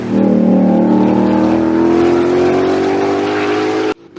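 A 2025 Ford Mustang GTD with a 5.2-liter supercharged V8 holds a loud, steady, close rev that climbs slowly in pitch for about four seconds, then cuts off abruptly.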